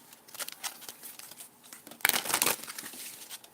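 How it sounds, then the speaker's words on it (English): Tarot cards being shuffled by hand during a reading, a run of soft papery riffles and rustles that swell into a louder, denser flurry midway before settling back to quieter shuffling, with no voices. "I'm going to shuffle these up and see what comes out."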